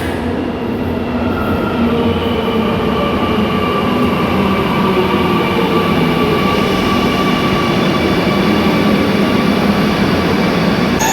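A Kochi Metro train runs steadily and loudly throughout, a continuous rumble of wheels on rail heard up close with no talking.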